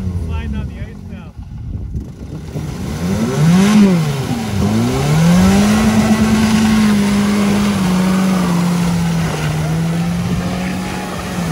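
A Toyota truck engine revving hard while mudding on ice, rising and falling then holding a loud sustained drone, close up, with a voice speaking over it.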